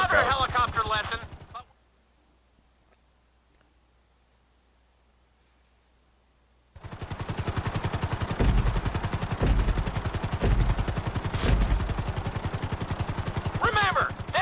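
A helicopter in Grand Theft Auto V's flight school: a loud, dense rotor thump and engine roar comes in after a long near-silent gap, sustained to the end, while a voice talks briefly over the start and close.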